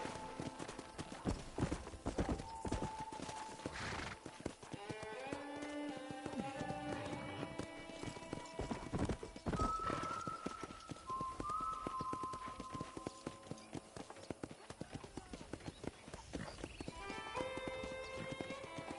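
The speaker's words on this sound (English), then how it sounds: "I picked out a fine horse for you." Horse hooves clip-clop steadily in the Red Dead Redemption video game, with occasional whinnies and tonal game sounds layered over a busy, continuous outdoor mix.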